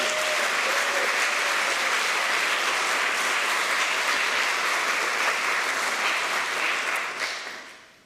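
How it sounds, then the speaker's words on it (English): Sunday morning congregation at a Unitarian church applauding a musician, sustained loud clapping from many hands that fades out at the end. "Let's give him another round of applause"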